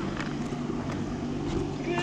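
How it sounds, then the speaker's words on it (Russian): Powerful outboard motorboat of roughly 50–60 horsepower running on the water near an island, a continuous moderately distant engine drone mixed with wind buffeting the microphone, while people talk nearby. "Какой-то, наверное, мощный мотор."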